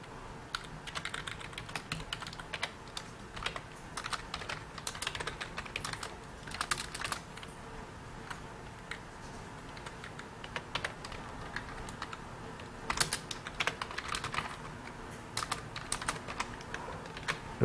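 Someone types on a computer keyboard, producing quiet, irregular bursts of key clicks with short pauses and a denser flurry near the end. No one speaks.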